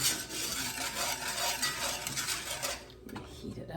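A spoon stirs ingredients in a pot, giving a continuous close scraping and clinking of metal that briefly drops away near the end.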